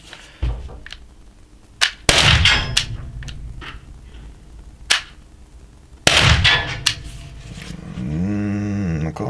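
A CCK TR50 rubber bullet gun, a CO2-powered air weapon, fires several sharp, loud cracks spaced a few seconds apart, each with a short ringing tail, followed by a hissing release near the end.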